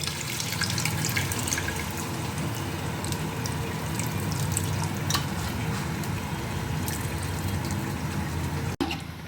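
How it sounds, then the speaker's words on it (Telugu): Half a litre of water poured over soaked tamarind to make the sour base for a fish curry, a continuous close splashing pour with one sharp click near the end. "1/2 లీటర్ నీళ్ళ పోసాను"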